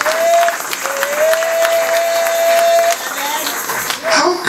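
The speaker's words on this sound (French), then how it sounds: "Applaudissez encore." Church congregation applauding at a seminar, a dense, steady wash of clapping with a sustained tone running through it and voices mixed in.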